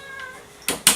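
An older house cat, about ten years old, gives a short tonal meow followed by two sharp, loud noisy bursts close to the microphone, all within about a second.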